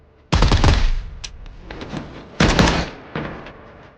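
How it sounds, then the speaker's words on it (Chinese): Dense automatic gunfire in an action film shootout between soldiers and drug dealers at a warehouse, with two loud, close rapid bursts, each trailing into a reverberant decay, followed by scattered lighter shots. "紧接着，周围传来了密集的枪声，毒贩慌乱中仓促应战"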